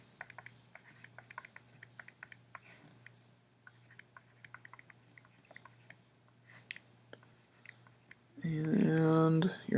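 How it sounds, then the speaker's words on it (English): Numbers are tapped into a calculator in a run of light, irregular clicks over a faint steady hum, before a person begins talking loudly near the end. "you're going to type that in your calculator"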